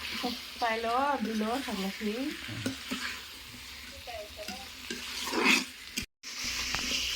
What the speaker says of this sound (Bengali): মাংস কষা কষাচ্ছে